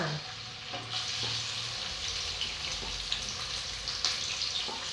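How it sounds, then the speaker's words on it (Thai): Herb paste of dried chili and herbs stir-fried in hot oil for Thai fried bamboo worms, with a steady close sizzle and crackle throughout and occasional scraping stirs. "คราวนี้เราก็มาผัดเครื่องกันเลยนะคะ ใส่ลงไปแบบนี้เลยค่ะ"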